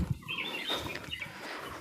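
Sparrows chirp around a tribal village in the Western Ghats, a scatter of thin high calls and twitters at a moderate distance over a faint outdoor background, with no talking.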